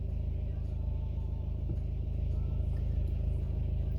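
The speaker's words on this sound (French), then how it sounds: "Vous entendez le moteur de ma voiture, il tourne encore." Steady low engine rumble of a car idling nearby, constant and unchanging throughout, with no voices.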